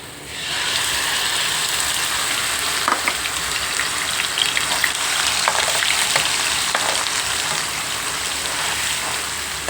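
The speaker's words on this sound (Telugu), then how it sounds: "స్టవ్ వెలిగించాను ఆయిల్ వేసుకున్నాను ఆల్రెడీగా ఇదిగోండి ఉల్లిపాయ పేస్ట్ చేసి వేసుకున్నాను" Onion paste fries in hot oil on a lit stove with a steady, dense sizzle that runs without a break throughout, close and loud, with a few faint stirring clicks.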